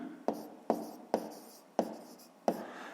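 Pen strokes scratching on paper while a fifth-grade math word problem is worked out, five short bursts of writing at a steady pace, close and quiet, with no talking.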